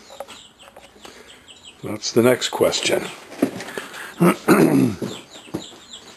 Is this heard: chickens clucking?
yes